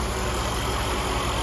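A 1992 Cadillac Sedan Deville with its 4.9-liter engine idling, a steady low rumble with even vibration, close and constant for a brief moment with no talk.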